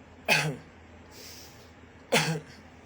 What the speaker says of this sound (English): effective cough techniques like so you breathe in and cough